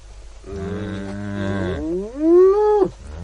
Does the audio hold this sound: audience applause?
no